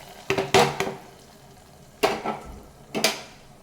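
Cooked dal added to a pan of tempering with cumin, garlic, onion and curry leaves, a few close metallic clanks and scrapes of a spoon against the pot in separate bursts, with quiet gaps between.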